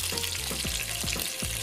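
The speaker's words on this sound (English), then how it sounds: "next I'm cooking the ground turkey" Ground turkey sizzles and crackles steadily in a hot frying pan, with a few soft stirring scrapes through the continuous close hiss.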